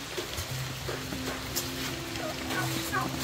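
A turkey gobbles near a rural Filipino house, its warbling call rising over steady low background rumble, with faint talk nearby.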